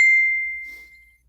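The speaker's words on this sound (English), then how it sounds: "I thought I turned my notifications off." A single bright notification ding from a phone during a live car audio Q&A stream, one clean sustained tone that rings out and slowly decays, alone with no talk over it.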